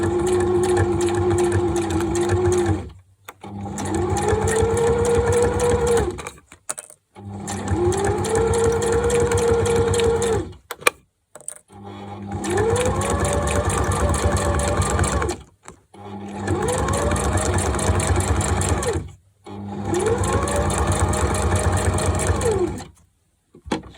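A sewing machine stitches slippery acetate in six loud, close-up bursts of rapid mechanical whirring, each a few seconds long and separated by short silent pauses.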